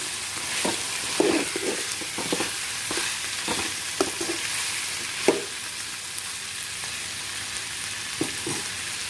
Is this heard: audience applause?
no